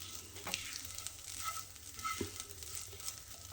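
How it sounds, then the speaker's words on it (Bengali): Soya chunks frying in a pan, a steady close sizzle with soft scraping and clicks as they are stirred, continuous throughout with no talk. "এটাকে নাড়াচাড়া করে সুন্দর করে ভেজে নিতে হবে"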